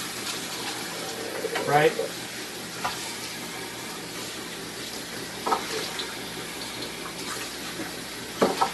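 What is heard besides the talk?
water from sink tap rinsing soap off CPAP parts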